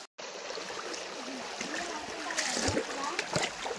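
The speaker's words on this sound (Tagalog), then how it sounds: "River na to, kuya. Binakuan Falls." A river at Binakuan Falls during a rainy hike, a steady rushing of flowing water with splashes, while people talk over it.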